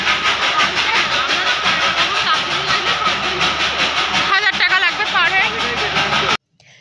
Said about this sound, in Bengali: আমাদের রুমের সামনে দিয়ে এরকমভাবে টয় ট্রেনগুলো ছুটে ছুটে যেত